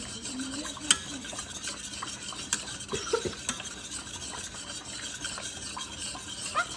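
Vegetables for clam chowder are stirred in a pot, a close, repeated scraping and clinking of a utensil against the pot with faint sizzling underneath and irregular louder knocks.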